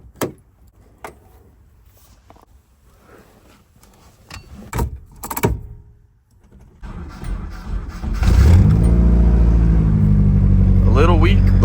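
Keys jingle and a few clunks, then an old Nissan S13 hatchback engine cranks weakly and catches, settling into a loud steady idle that fills the rest.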